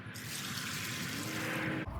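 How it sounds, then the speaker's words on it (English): Water poured from a container into dry cement in a wheelbarrow, a steady close splashing gush that runs for about two seconds and stops abruptly, with no talking. "Two and a half liters of water."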